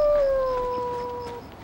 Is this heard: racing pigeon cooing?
no